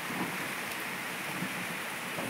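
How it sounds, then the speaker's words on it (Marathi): Steady hiss of rain beginning to fall on a farm during the monsoon, a soft, even wash of sound with no voices, fairly faint and continuous. "आभाळ आले म्हणलं आणि पाऊस तर चालू बी झाला."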